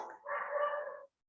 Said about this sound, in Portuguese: Desculpa meu cachorrinho aqui.